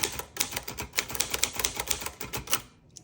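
Rapid, steady keystrokes on a 1963 Olivetti Lettera 22 portable typewriter, close and crisp, each strike a sharp clack in an even run that stops abruptly at the end.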